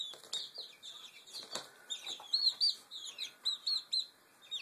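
A pet hen makes soft repeated clucks and short chirpy calls in a quick irregular series, close and fairly quiet, with small rustles between them.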